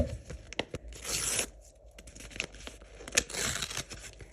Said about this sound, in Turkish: ben bu paketi açacağım